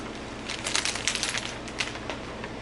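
Protective plastic film crackles as it is peeled off a new gold iPhone 12 Pro Max, a close series of soft crinkling rips over faint background hiss, with no talk.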